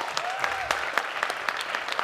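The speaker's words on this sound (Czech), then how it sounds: "Opravdu si zaslouží potlesk" An audience at a youth camp talent show applauds after a performer's act, with steady, dense clapping and distinct individual claps rising through it, a faint sustained tone early on.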